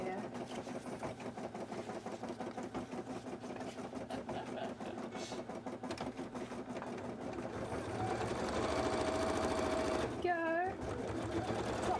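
A sewing machine running steady top stitching on a cosplay piece, a continuous motor hum with rapid needle chatter, speeding up toward the end, while a voice speaks briefly over it.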